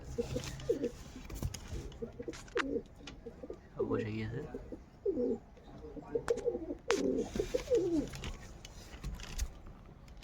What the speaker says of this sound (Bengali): এদিকে সব কবুতর বসে আছে তো ফাইনালি সব কবুতরগুলো আমার জেলে এসছে